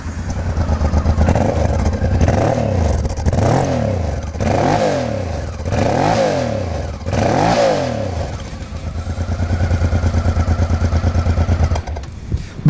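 A 1990 Honda Africa Twin motorcycle engine runs close by, revving in a series of rising and falling blips before settling into a steady, even idle.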